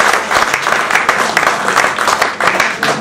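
An audience at a public debate claps in a dense, continuous burst, loud and close, with no voices over it.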